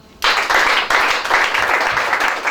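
A church congregation bursts into loud, sustained applause acclaiming Jesus, starting abruptly from near silence and swelling in waves of dense clapping close by.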